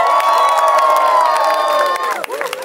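A wedding crowd cheers and whoops loudly, a dense wash of excited voices with shouts rising over it for a few seconds.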